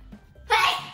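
A single sharp, breathy sneeze bursts out after a moment of quiet murmuring, close and fairly loud.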